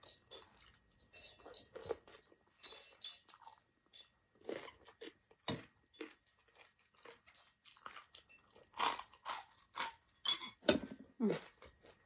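Close, crisp crunching and chewing of Thai cucumber salad (tam taeng), bites coming in irregular bursts with short pauses between mouthfuls. No talking.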